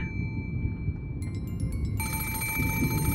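An antique telephone rings in the Umineko visual novel game, its bell trilling in bright metallic bursts that start partway through and grow steadier over a constant low background rumble.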